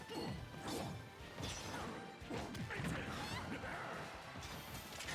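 Hard impact crashes and thwacks from forward smash attacks in a Super Smash Bros match between Zelda and Incineroar, several heavy hits in quick succession over busy game noise, with a faint voice underneath.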